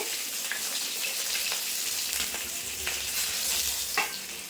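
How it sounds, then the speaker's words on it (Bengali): Silver carp fish pieces fry in hot oil as they are turned, giving a continuous close sizzle with a few scattered clicks and scrapes, and no speech. "এই মাছগুলোও কিন্তু ভেজে নিয়েছি উল্টে পাল্টে এখন এই মাছগুলো তুলে নেব"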